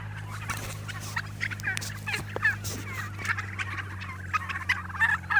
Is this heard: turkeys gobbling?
yes